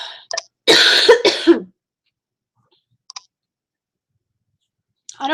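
A person coughs in a short burst of two or three harsh, close coughs, followed by silence, a couple of faint clicks and a brief sound at the end.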